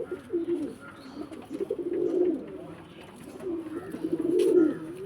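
Domestic pigeons at a pigeon seller's loft in Bangalore coo in repeated low, throaty bursts, moderately close, with faint chirps in the background and no talking.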